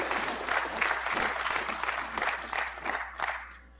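An audience at a conference opening ceremony claps, moderately loud, in an uneven burst of many hands. The clapping thins into scattered claps toward the end.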